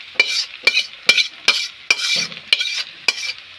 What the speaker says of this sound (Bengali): তো ভেন্ডিটা গরম, কড়াইটাও গরম। তো ভেন্ডিগুলো দিয়ে দিই